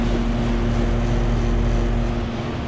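An old 3-ton 1989 Carrier Tech2000 central air conditioner running outdoors, a rusty unit with a replacement fan motor, giving a steady, loud, low droning hum with a faint tonal buzz and no talking.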